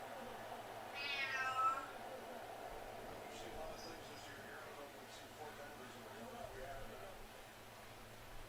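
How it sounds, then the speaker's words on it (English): A cat lets out one low, drawn-out meow, faint against a quiet humming background, followed by a few soft distant sounds. "He got the deepest meow."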